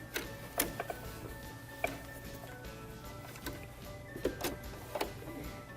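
A home sewing machine running a straight stitch along a seam, a soft steady mechanical whir with irregular ticking clicks and small knocks, close and moderately quiet, with no talking.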